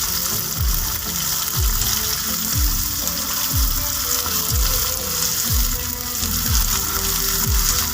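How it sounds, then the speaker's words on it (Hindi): Four onions fry in a pan toward light brown, a continuous dense sizzle with a faint repeating clatter running through it, and no voices. "प्याज लिए थे मैंने 4 अदद। अब मैं इनको कर लूँगी लाइट ब्राउन।"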